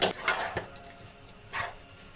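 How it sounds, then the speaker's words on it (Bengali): Rice poured into a pot of spices over a high flame, a few close scraping and clattering bursts from the pot with a soft rush of grains and faint sizzling underneath. "এবার চালগুলো দিয়ে দিচ্ছি"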